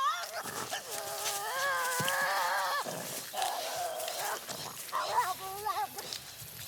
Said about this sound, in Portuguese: E então o guinchado a plenos pulmões.